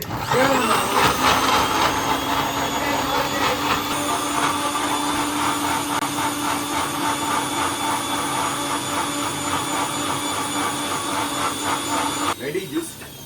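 A kitchen mixer grinder whirs steadily for about twelve seconds as it blends mango milkshake, a loud, even motor drone that cuts off abruptly near the end, with people talking over it.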